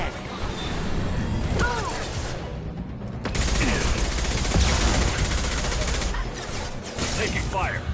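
Gunfire crackles in Mass Effect 2 as sustained, overlapping volleys mixed with other battle sounds and voice-like game chatter, dipping briefly before the firing surges again.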